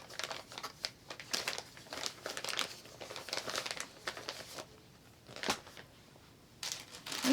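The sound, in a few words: yarn balls being put back into a bag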